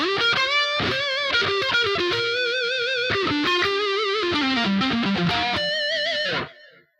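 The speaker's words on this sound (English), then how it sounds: "400 millisecond delay and a plate reverb" Distorted electric guitar from a BOSS GT-8 plays a lead riff with 400 millisecond delay repeats and a lush plate reverb tail, loud and continuous, fading out at the end.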